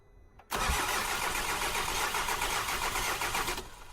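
An older car's engine cranking and then catching, a steady whirring roar for about three seconds that falls away at the end, with no one speaking.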